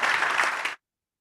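Audience applause for the speakers at a regional instant-payments forum, a dense burst of clapping that holds steady for under a second and then cuts off abruptly into silence.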